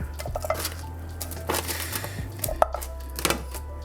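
Chicken wings for lemon pepper glazed wings are tossed into a pan, giving a few sharp clatters and thuds against the metal over a low steady hum, with light scraping between the impacts.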